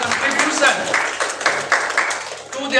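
Scattered clapping from the audience at a university club AGM in an apartment complex, a loose, uneven patter of hands that rises and dips while a voice talks over it.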